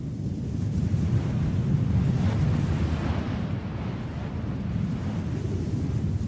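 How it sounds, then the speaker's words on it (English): Ocean surf washes steadily below a cliff beside a heliport in a video game, a continuous, dense roar of waves mixed with wind, with no talk over it. "you can hear the sound of waves."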